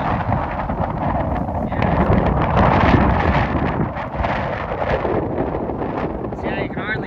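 Strong wind buffets outdoors near a creek among bare trees on farmland, a loud continuous roaring rush with gusty swells and heavy microphone buffeting, a voice faintly mixed in.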